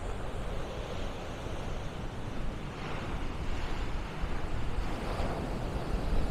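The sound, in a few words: sea waves on the shore at Beadnell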